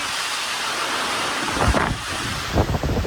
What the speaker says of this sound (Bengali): এত জোরে দমকা হাওয়াটা এলো